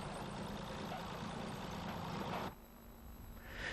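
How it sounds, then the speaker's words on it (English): Diesel engine of a Massey Ferguson tractor converted to run on rails, its rail wheels chain-driven off the rear axle, on an Irish peat railway, running steadily and loud, then dropping sharply to a quieter idle near the end. "A number of Massey Ferguson tractors have been converted to run on rails."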